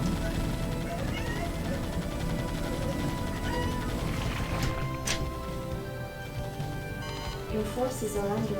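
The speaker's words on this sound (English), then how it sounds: "Oh, my cat's wanting in." Domestic cat meowing to be let in, a few faint meows heard under game music and sound effects, with a voice talking over them.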